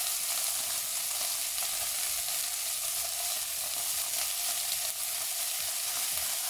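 Deboned chicken frying in a pan, with a steady, even sizzle that carries on unbroken throughout and no voices.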